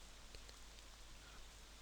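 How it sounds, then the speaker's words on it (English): Steady rain falls in a quiet Super Mario PC Fun 2 game level, a soft even hiss with no other sounds, faint and continuous. "this level is just silence and rain. Just rain and Goomba jumping along the platforms"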